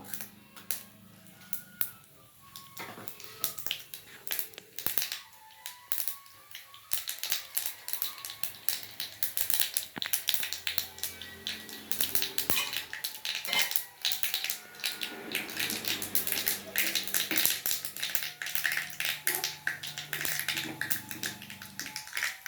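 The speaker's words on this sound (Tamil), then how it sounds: "இப்போ எண்ணெய் காஞ்சிடுச்சு. கரண்டி வச்சு கடுகு போடுறோம், உளுத்தம்பருப்பு போடுறோம்" Mustard seeds and urad dal splutter in hot oil for a bottle gourd chutney tempering, a dense, steady crackle and popping that builds and carries through about twenty seconds with no talk.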